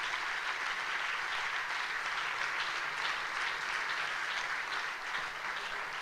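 An audience at a church conference in Mumbai claps hands in a dense, continuous burst of applause that holds steady and fairly loud throughout, with no clear speech over it.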